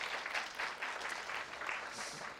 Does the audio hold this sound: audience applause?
yes